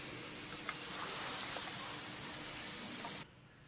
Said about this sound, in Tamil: இப்போ நல்லா வதக்கிக்கோங்க